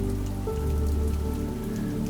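Rain patters against a window in a steady, soft, continuous wash, heard close with no other sounds.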